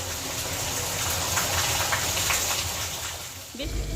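Steady, dense wash of heavy rain pouring down, broadband and continuous, with faint voices mixed in beneath the downpour.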